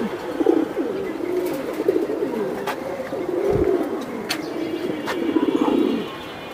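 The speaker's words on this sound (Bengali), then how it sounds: "এটা সিলভার জেনারেশনের কবুতর।" A silver generation pigeon coos in low, repeated rolling phrases close by, with a few sharp clicks and faint background noise and no talking.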